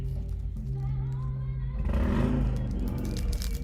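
Car engine noise fills the background, a steady low rumble that swells partway through as a vehicle seems to accelerate nearby, with no voices over it.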